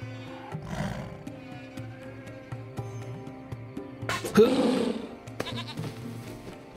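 A goat bleats in the video game Lost Horizon, with a few short bleats around the one-second and four-and-a-half-second marks amid clicky game sounds and low background hum.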